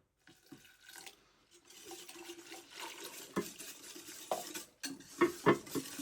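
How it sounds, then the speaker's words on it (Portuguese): Fresh baker's yeast being stirred into warm water in a bowl for homemade bread, with soft scraping and swirling strokes, close by, building to a few sharper clinks near the end; no talking. "Mexo muito bem aqui, mistura muito bem."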